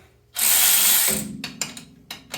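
A ratchet wrench loosens bolts on a Speed UTV primary clutch spring: a loud, dense burst of ratcheting clicks, then several short separate clicks and turns close by.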